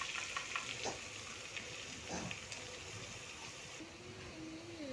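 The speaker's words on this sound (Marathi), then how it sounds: "चला आता मसाला फ्राय करून घेते तेलामध्ये।" Homemade masala of red chilli powder, salt and coriander powder frying in oil over low heat, a steady close sizzle with a few scraping stirs, running alone.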